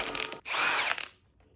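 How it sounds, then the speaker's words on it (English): Milwaukee impact driver working on a 1956 International S-160 4x4 rear axle rebuild: a short, loud, close burst of whirring and hammering, with a brief pause partway and then a quick stop. "This Milwaukee Impact is the coolest ever."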